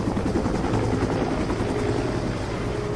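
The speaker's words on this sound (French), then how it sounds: "Un hélicoptère!" A helicopter roars overhead with a dense, steady rotor throb that stays loud and close for the whole few seconds, with no voices over it.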